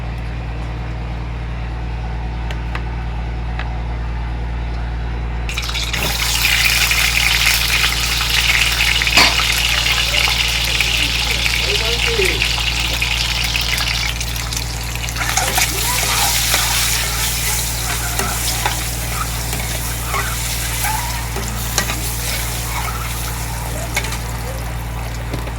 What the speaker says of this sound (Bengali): কড়াটা আমার গরম হয়েছে, এবারে আমি একটু ডিমটা ভাজবো